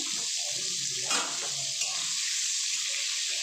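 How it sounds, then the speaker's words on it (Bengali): Pieces of pointed gourd (potol) fry in oil over a low gas flame, giving a steady, close sizzling hiss with a couple of brief louder crackles and no talking. "পটল ভাজার সময় গ্যাসের ফ্লেমটা একটু কম করে দেবেন"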